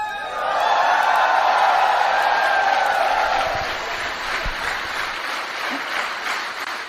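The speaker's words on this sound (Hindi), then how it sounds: "इस बिजनेस में शामिल महिलाओं के लिए जोरदार तालियां बजाएं।" A large business seminar audience claps and cheers for women in the business, a loud sustained wave of applause with whoops that swells early and then gradually tapers off.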